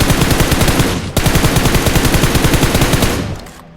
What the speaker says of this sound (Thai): เหมือนปืนมันลั่นเร็วกว่าเดิมเลยนะ